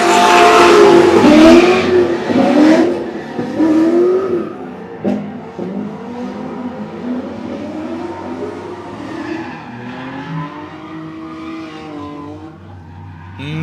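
A car drifts at a live event in Mexico, its engine revving hard and wailing through long tire squeals, loud at first and then easing into a steadier, more distant drone.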